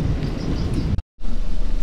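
Heavy rain and thunder during a campsite road trip, a dense, loud rumbling roar with a sudden brief cut to silence before the downpour noise resumes just as strongly.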